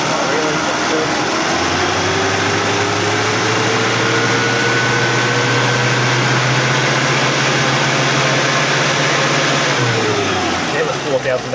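A car engine revs up and holds a steady elevated drone for about nine seconds, then drops back. The sound is loud and close and continuous throughout.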